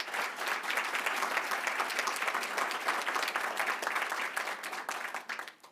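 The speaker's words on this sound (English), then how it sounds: "Give her a round of applause." An audience at a New York City Comptroller's public address breaks into dense, sustained applause that stays steady for about five seconds, then tapers off at the end, with no talking over it.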